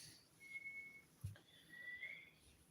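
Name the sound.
whistling sound in the background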